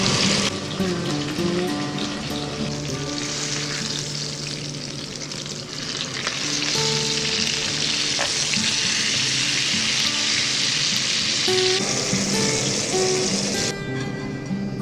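Food frying in a compact camping frying pan outdoors: a loud, steady sizzle and crackle that continues throughout, with faint clinks of stirring and no talk.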